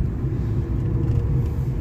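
Car rolling downhill on a steep mountain road, sending a steady low rumble of tires and engine close by, continuous and even throughout.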